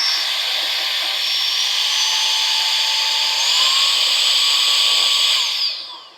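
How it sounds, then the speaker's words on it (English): A mini 110,000 RPM electric compressed-air duster runs in blower mode with a loud, close, high-pitched whine that steps up in pitch partway through, then winds down and cuts off near the end. "This is the blower side."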